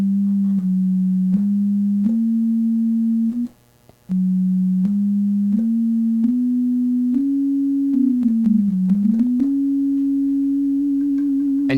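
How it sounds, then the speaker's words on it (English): A pure synthesizer tone, played on an Expressive E Osmose, steps up and down in quarter-tone increments with audible beating, pausing briefly once before continuing its wavering, stepwise melody. "hear that beating now? I'm playing in quarter tones on every semitone."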